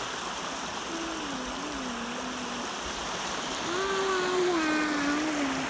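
A river flows steadily nearby, its broadband rush continuous and moderately loud, with a few thin whistling bird calls rising over the water.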